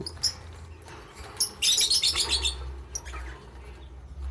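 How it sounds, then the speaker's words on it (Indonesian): Euwing lovebirds (black, green pastel and dark green) chirp in close, bright bursts, a cluster of rapid high tweets swelling mid-way over a low background hum, with a few scattered calls before and after. "burung yang ngekek itu kan bukti kalau dia itu sehat"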